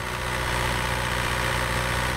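A scooter engine in Thailand idling through a short open pipe exiting just after the turbo with no muffler, a loud steady rumbling drone with a throbbing low pulse and no pauses.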